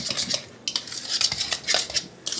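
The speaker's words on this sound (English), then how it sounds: "a little bit of salt, a little bit of pepper, Mix it all about." A utensil scrapes and clinks against a bowl while deviled egg yolk filling is mixed with salt and pepper, giving short, uneven bursts of close stirring with brief pauses.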